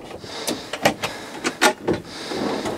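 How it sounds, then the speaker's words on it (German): Drawers in the kitchen of a used Mercedes Sprinter La Strada Regent L camper van slide open in several quick rattling pulls and clunks, close and fairly loud, with no talking. "Und wir machen mal die Schubladen auf."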